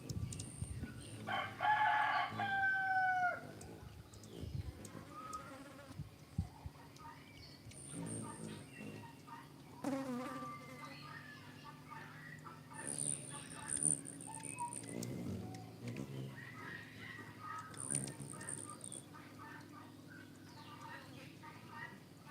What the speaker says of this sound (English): the ones that are calling right now are the hens, and the males have a call, but they're not as vocal